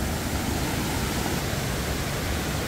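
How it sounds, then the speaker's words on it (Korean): A small waterfall in a wide mountain valley stream, a continuous broadband rush of falling water, loud and steady with no voices. "아, 여기 이제 작은 폭포가 하나 나오네요."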